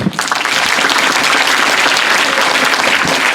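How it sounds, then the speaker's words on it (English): A school assembly audience applauds its performers at a Lunar New Year event, steady dense clapping filling the room from start to finish, loud and close with no talk over it. "Can we give a round of applause for all our performers today?"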